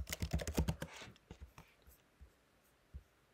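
Quick typing on a computer keyboard, with a fast burst of close, crisp keystrokes at the start that thins to a few scattered taps.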